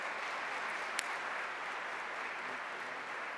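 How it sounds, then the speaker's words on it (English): An audience gives a speaker a warm round of applause, a steady, fairly faint wash of distant clapping filling the hall without speech. "Please give him a big, warm round of applause."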